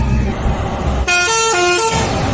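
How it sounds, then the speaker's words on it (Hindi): At the Bullet Baba temple shrine to a Royal Enfield Bullet motorcycle, a passing vehicle sounds one loud, sustained, multi-tone horn blast of about a second in salute, over road noise and engine rumble. "वो गाड़ी का हॉर्न ऐसे बजा के आगे बढ़ जाते हैं।"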